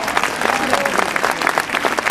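Applause at an outdoor school living nativity event, a steady crowd clapping continuously at close range throughout.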